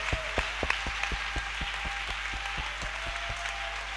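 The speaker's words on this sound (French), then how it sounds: "Moi-même, j'ai applaudi." A small church congregation claps during a French-language sermon, a steady rhythmic beat of hand claps at a moderate distance over a faint hum, without voices.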